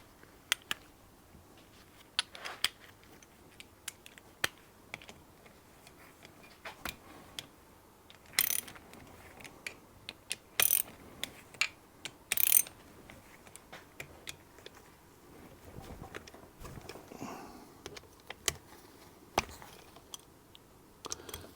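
A hand ratchet clicks in short bursts while loosening bolts on a Yamaha 115 two-stroke outboard motor. Each burst is a close, faint, crisp series of ticks, with small metallic clinks in the quiet spaces between.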